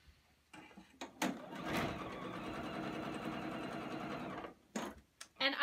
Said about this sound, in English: I'm just going to strip sew these